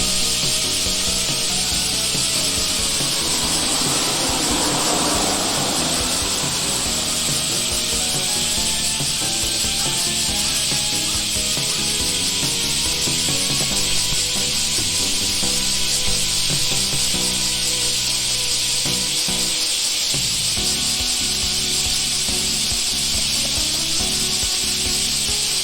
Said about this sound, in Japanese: 結構セミの音がですね大きかったです